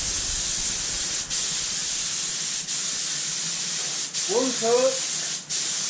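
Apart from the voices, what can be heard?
spray painting a Socome MIG welder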